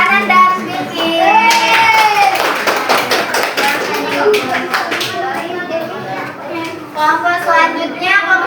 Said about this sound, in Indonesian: tepuk tangan untuk kanan dan kiri